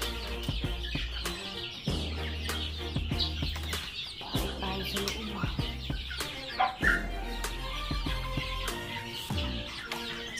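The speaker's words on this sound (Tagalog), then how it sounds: "Ating mga sisiw." Newly hatched chicks from a homemade incubator chirp constantly in high, rapid peeps, with several birds overlapping close by.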